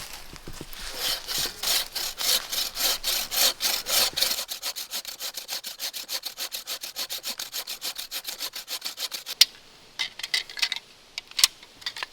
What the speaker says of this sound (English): Just looking for collapsible bow saws.